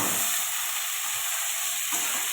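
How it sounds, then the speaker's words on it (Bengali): Potatoes and onion sauté in a pan with five-spice and bay leaf, giving a dense, even, close sizzle throughout with no voices. "এটা ভালো করে কষাতে থাকবো"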